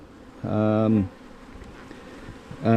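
Honeybees buzz during a November hive inspection of a hive that seems weaker than another, a loud close drone rising in two bursts with a quieter hum between them and no talking.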